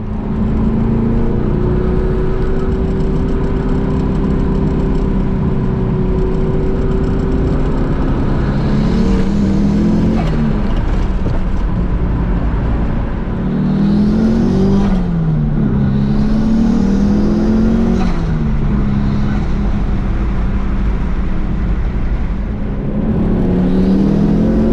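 A car with a stroked, high-compression turbo engine being driven, its loud, steady drone rising and falling as it revs repeatedly through gear changes, with no talking.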